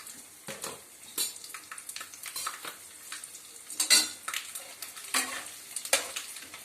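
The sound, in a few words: mustard seeds, chana dal and urad dal frying in oil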